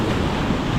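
Ocean waves breaking on a beach roar as a continuous broadband wash mixed with wind buffeting the microphone, loud and close, no voices.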